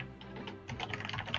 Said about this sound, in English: Somebody typing furiously.